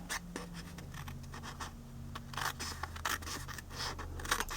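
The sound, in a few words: scissors trimming paper for a Chapstick box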